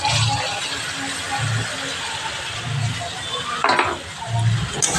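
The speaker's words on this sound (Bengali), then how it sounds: "এই পেঁয়াজটার ভিতরেই তোমার এই যে চিংড়িগুলো দিয়ে দেবো" Prawns go into fried onion in a pan, giving a soft sizzle with intermittent stirring scrapes and a clink of utensils; someone talks in the background between the stirs.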